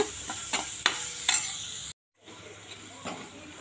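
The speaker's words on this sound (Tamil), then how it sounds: "நம்ம சேர்த்த வெங்காயம் நல்லா வதங்கிடுச்சுங்க" Onions sauté in a hot pan for masala idli, giving a steady sizzle and hiss broken by a few scraping stirs of a spoon. The sound cuts out briefly, then the softer frying noise returns.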